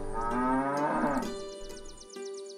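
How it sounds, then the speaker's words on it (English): Cattle moo impatiently from a shed in a farming video game, two long, loud bellowing calls close by, the first drawn out and the second shorter, with no talk over them. "I heard impatient mooing from the shed"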